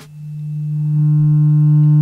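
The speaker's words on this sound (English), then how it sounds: "So what does 150 hertz sound like?" A 150 Hz test tone is played through a poorly designed subwoofer box. It holds one steady, loud hum for about two seconds, swelling slightly at the start, with strong harmonics and distortion above the fundamental.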